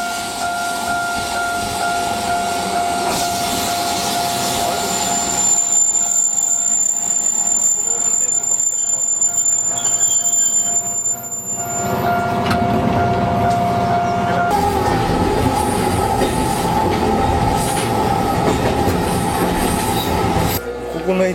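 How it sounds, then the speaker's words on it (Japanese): A train rumbles and rattles steadily close by, rocking noticeably, with a high metallic squeal of wheels partway through and faint voices underneath, at Togawa station on a Japanese local line. "来た来た来た来ましたよ。 揺れてるね。 電車。"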